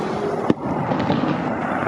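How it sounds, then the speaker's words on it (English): Fireworks pop in the distance near SoFi Stadium during construction, one sharp bang followed by a continuous crackling rumble under steady outdoor noise. "Got some fireworks going on here."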